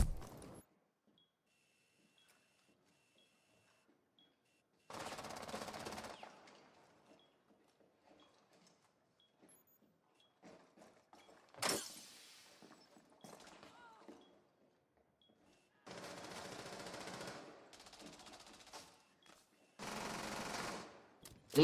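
Gunfire in the video game Rainbow Six Siege comes in several separate automatic bursts a few seconds apart, each lasting about a second, with quiet gaps, a sharp single report and faint game sounds between.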